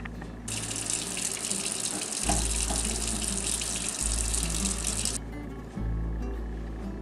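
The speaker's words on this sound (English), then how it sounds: "Okay, now let's wash our hands." A kitchen tap runs steadily while a child washes hands under the stream, with small splashy changes in the flow and no talking.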